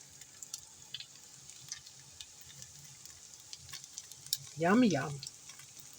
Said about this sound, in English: So I'm cooking that in butter.